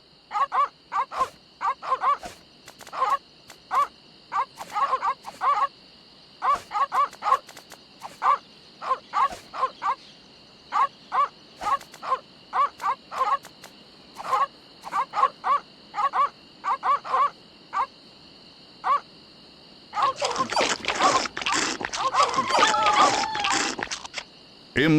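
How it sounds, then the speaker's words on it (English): Sleeping dogs in The Secret of Monkey Island: Special Edition, giving repeated short whimpers and yips in an uneven rhythm over a faint steady tone, then a denser stretch of noisy sound near the end. "These dogs are not dead. They are only sleeping."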